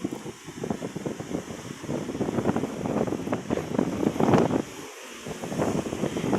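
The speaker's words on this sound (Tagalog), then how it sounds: "Sobrang lakas ng hangin, Maki." Strong seashore wind buffeting the microphone in gusty rumbling bursts over a background wash that may be surf, loud and close with no talk.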